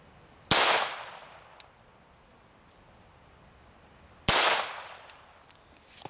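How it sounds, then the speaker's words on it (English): Two sharp .22 Long Rifle pistol shots, each followed by a ringing clang as the bullet strikes a titanium plate, spaced a few seconds apart with a quiet outdoor gap between them. "Starting it off right with a .22 long rifle out of this pistol."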